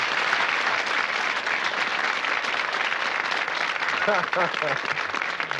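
Studio audience applauding on a 1984 British television quiz show, a steady dense wash of clapping throughout, with a voice briefly talking over it near the end.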